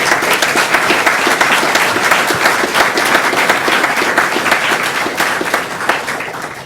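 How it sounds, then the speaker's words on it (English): Audience at a 2019 career signing day event applauds its graduating high school seniors, a loud, steady wash of clapping from many hands that holds for several seconds before tapering slightly at the end. "Let's have a big round of applause for all of our seniors."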